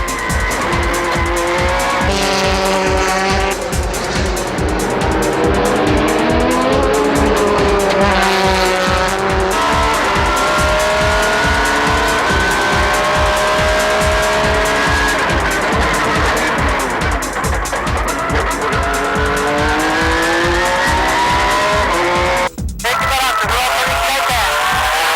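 A 2003 ARTA Honda NSX race car drives hard on a circuit, its engine loud and close throughout with rising and falling revs through gear changes and brief tire squeal, one short dropout near the end.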